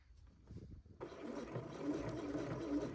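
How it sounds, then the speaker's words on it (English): A sewing machine stitching boxer shorts fabric starts up after a second of quieter handling noise, then runs with a steady mechanical whir and rattle, with faint talk underneath at the start. "Then pivot, sew across the top of the split until you reach the center of the other split."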